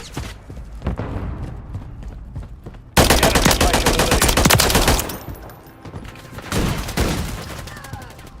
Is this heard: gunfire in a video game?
yes